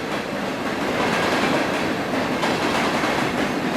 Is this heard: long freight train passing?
yes